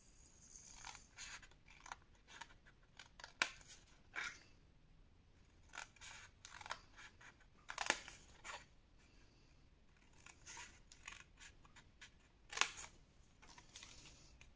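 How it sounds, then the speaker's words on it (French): Scissors snip through paper along traced lines for scrapbook work, giving a quiet, irregular series of short cuts and rustles with a few sharper clicks, close by and with no voices. "vous allez couper sur chaque ligne ici que vous avez tracé"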